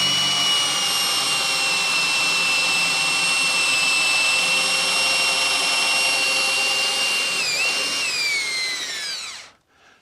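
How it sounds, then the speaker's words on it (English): A 5/16 inch drill bores out a broken graphite golf club shaft, whining steadily and loudly for about nine seconds with a tonal pitch that dips near the end before the motor cuts off. "a 5/16 inch drill will take it out"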